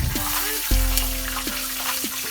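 Jamaican fish fries in a pan with a loud, steady sizzle, while a few sharp clinks and scrapes of a utensil cut through at intervals and nobody speaks.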